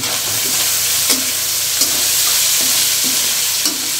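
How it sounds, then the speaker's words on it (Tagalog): Beef pares stirred while frying in a pan: steady loud sizzle throughout with a spatula scraping the pan about every three-quarter second, no talking. "Haluin natin, mga kablog."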